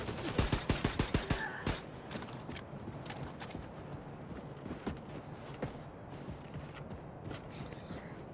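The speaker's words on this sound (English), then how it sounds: "I think these SMGs are probably the best in the game." SMG fire in Wolfenstein: The New Colossus, a fast burst of about ten sharp close shots opening the passage, followed by scattered quieter shots and impacts in the fray.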